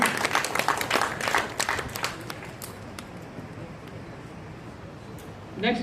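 Applause from an audience at a school board results celebration for Jamia senior secondary students, a dense burst of clapping that is loudest at the start and then thins to scattered claps and murmur, with a brief voice near the end.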